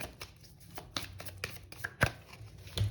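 Tarot cards being shuffled by hand during a reading, heard as a series of soft, crisp riffling bursts and taps at an irregular rhythm, close and fairly quiet, with no voices.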